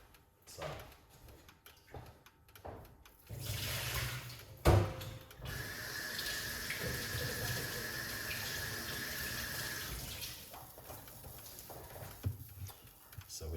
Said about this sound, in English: So we just rinse off the lemon